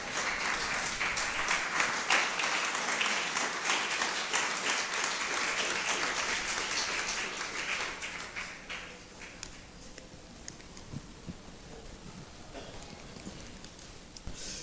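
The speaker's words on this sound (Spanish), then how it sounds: "Ponte sobre tus pies y dale un aplauso al Señor." A church congregation applauds together at a Spanish-language worship service, a dense, loud wash of clapping that thins and quiets after about eight seconds, with scattered claps and faint voices continuing beneath.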